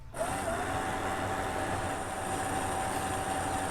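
A steady mechanical hum and whine from truck camper jack motors running continuously after being greased with marine grease, fairly quiet with a faint high tone on top.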